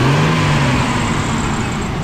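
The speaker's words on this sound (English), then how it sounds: "Let me rev it up for y'all." A 1996 Chevrolet Impala SS engine revving up close, loud and throaty, its pitch rising briefly then easing back down as the rev settles, with no talk over it.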